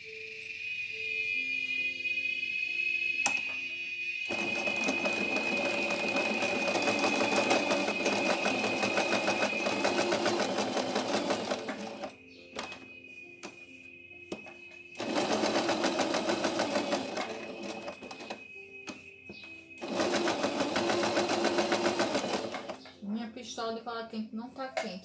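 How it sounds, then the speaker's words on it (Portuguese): A sewing machine stitches a cloth doll in bursts of rapid, steady whirring, running for several seconds, pausing, then starting again, with a faint tonal hum in the quiet gaps and a few small clicks near the end. "Vamos lá, costurar esse revel aqui."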